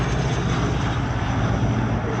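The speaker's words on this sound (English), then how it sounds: "It is powered by 2 Wright R3350 radial engines" A Lockheed Neptune maritime patrol aircraft powered by two Wright R3350 radial engines flies past at an airshow at Shellharbour, giving a loud, steady, rough propeller roar that fills the whole moment.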